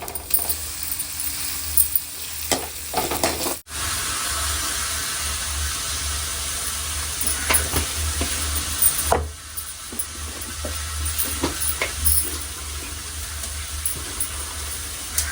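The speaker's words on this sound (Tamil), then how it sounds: "வெங்காயம் இஞ்சி பூண்டு போட்டு நல்லா வதங்கியாச்சு" Onion, ginger and garlic frying in a pan in a village kitchen, giving a steady, close sizzling hiss throughout, with a few light clinks and taps of utensils.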